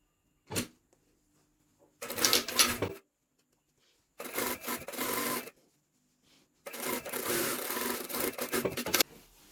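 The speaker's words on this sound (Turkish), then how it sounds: "Şöyle karşılıklı tutuyorum. Üstünden dikiş dikiyorum." Hand stitching along the lining seam of a jacket sleeve: a quick tug, then three rustling bursts of thread drawn through fabric, each lasting about a second, with quiet pauses between them.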